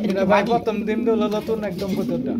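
A male pigeon coos in low, repeated throaty calls nearby, under a person talking steadily.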